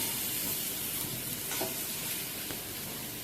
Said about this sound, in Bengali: আমি কিন্তু এরকম হালকা ফ্রাই করে তুলে নিচ্ছি